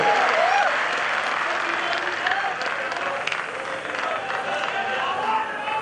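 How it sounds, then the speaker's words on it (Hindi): Dense applause from a large audience at a political rally in Badaun, sustained clapping and crowd noise for several seconds with a voice faintly audible over it. "एक बार जोरदार इनके लिए तालियां हो जाए"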